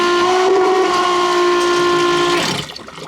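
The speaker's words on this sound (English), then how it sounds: "And all I've got to do is hit pump." An electric marine toilet head pump on a boat runs with a loud, steady mechanical whine and water rushing beneath it, then cuts off abruptly near the end, leaving faint trickling.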